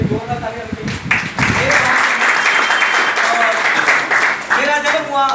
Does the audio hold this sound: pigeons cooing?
no